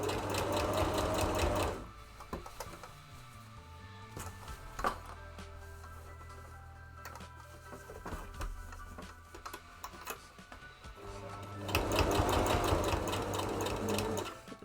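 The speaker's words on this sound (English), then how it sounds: "Also just sewing through a lot of layers at the moment" A sewing machine punches through many stacked fabric layers, running in loud steady bursts at the start and end, with a quieter stretch of slow, uneven needle ticks in between.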